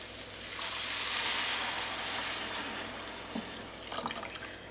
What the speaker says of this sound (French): Je vais mouiller avec 900 d'eau.